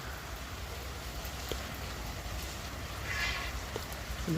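Rain falls steadily in Bathinda as a soft, even hiss that holds across the whole span, with a few faint drips and a slight swell toward the end.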